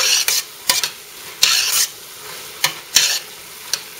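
A spoon stirs a stuffed pepper filling mixture with jalapenos and cumin, giving bursts of scraping, mixing noise in uneven strokes, close and fairly loud, with quiet gaps between them.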